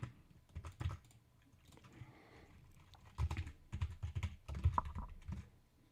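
Typing on a computer keyboard comes in quick clusters of close, crisp key clicks separated by short pauses, fairly quiet and with no talking.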